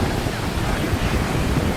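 Steady roar of high ocean surf at Chintapalli beach with wind buffeting, continuous and loud throughout.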